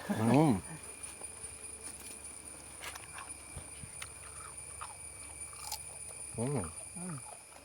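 Someone bites into and chews a fresh guava from an orchard growing hundreds of Thai guava varieties, with soft crunching close by, two short bursts of voices, and a steady insect and cricket drone in the background.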